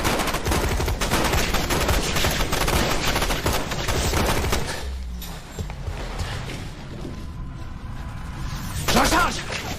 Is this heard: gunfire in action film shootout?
yes